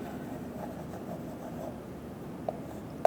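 A formula being written on a board during a physics lesson, a steady faint scratching and rubbing that runs unbroken for a few seconds, with a small tap near the end.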